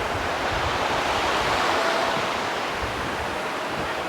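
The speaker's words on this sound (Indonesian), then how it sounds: "Jadi kita bisa nongkrong persis di pinggir sungai." A river flowing beside a campsite makes a steady, dense rushing wash that stays unbroken and loud throughout, with no voices.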